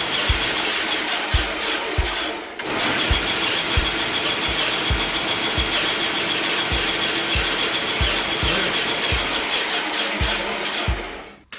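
An old Sears Craftsman bandsaw in need of grease runs with a loud, steady mechanical whir and a regular low thumping knock, dropping off briefly near the start before running on continuously.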